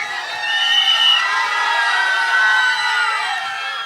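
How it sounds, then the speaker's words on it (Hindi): An excited crowd at a film promotional event cheers and whoops loudly for actor Dhanush, a sustained wash of shouting voices and cheering that swells and holds for several seconds. "धनुष सर के लिए एक बार जोरदार तालियां"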